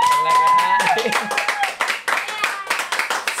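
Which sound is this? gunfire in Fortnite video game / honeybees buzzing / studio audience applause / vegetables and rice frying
studio audience applause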